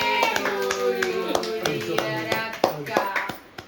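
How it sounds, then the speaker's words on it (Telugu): Hands clap in an irregular run of sharp claps during a midnight birthday cake cutting at home, mixed with voices singing or talking throughout. "చప్పట్లు ఎంత మంచిగా కొడుతుంది."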